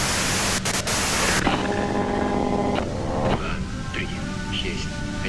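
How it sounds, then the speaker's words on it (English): Broadband white-noise static from the game Disco Elysium, a loud dense hiss filling the whole range before thinning into a lower rushing wash with faint tonal streaks, steady throughout. "you can do it through the white noise."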